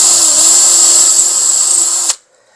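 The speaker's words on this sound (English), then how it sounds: "I'm drilling into these braces that go all the way across the table" A loud, steady high-pitched whine from a power drill boring into a wooden table brace runs continuously up close, then cuts off abruptly near the end.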